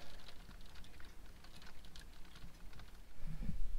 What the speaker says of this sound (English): And now you can hear that freezing rain hitting the window here.